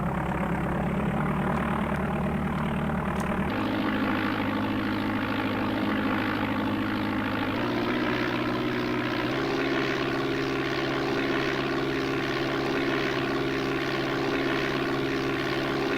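A propeller aircraft engine from the DOS game Flight Simulator 4 drones steadily and loudly, its buzzing pitch stepping up in a few abrupt jumps as throttle changes, with no talk.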